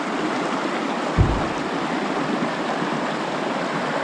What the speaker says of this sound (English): Down by the river.